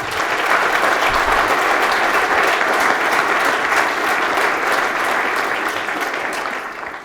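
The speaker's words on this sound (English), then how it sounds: "Give him another round of applause." An audience at a tech conference talk applauds steadily and loudly throughout, a dense wash of clapping that fades slightly toward the end.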